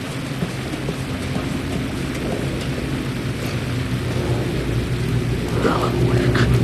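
Steady heavy rain falls with low rumbling thunder in the video game Alan Wake 2, a continuous wash of storm sound with no voices.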